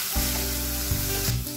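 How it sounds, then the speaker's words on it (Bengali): Mashed paneer fries in a pan with onion, garlic, ginger and chilli, giving a steady, close, loud sizzle with a few stirring scrapes throughout. "পনিরটা পেঁয়াজ রসুন আদা লঙ্কার সাথে মিশিয়ে আমি একটু ভেজে নিয়েছি।"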